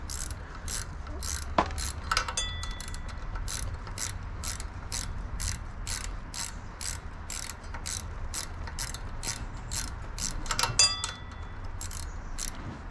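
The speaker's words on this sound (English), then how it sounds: "I love these ratcheting wrenches" A ratcheting wrench clicks in quick, regular bursts, close up, while tightening an alternator on a 1971 Chevrolet El Camino, with a few metallic clinks and low rumble underneath.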